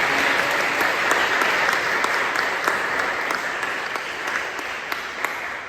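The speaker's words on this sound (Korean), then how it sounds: "다시 한번 격려의 박수를 나누겠습니다." A church congregation applauds during a Sunday worship service, a steady crowd of clapping hands sustained for several seconds and fading slightly, heard from within the sanctuary without speech.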